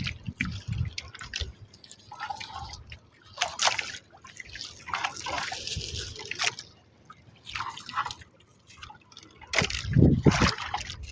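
Water trickles and drips steadily at close range, mixed with brief sloshing noises and a louder splash near the end, in an outdoor fishing setting.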